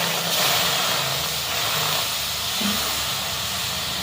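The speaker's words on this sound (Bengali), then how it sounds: "অল্প একটু জল দিয়ে দেব।" A little water poured into a hot kadai on a gas burner hisses loudly and continuously, a dense steady steam rush that holds at close range throughout.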